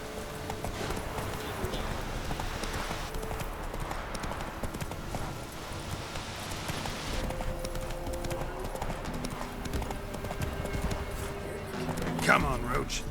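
Hooves of the horse Roach clip-clopping at a gallop in The Witcher 3: Wild Hunt, a fast steady rhythm running throughout, with game music and voices talking over it.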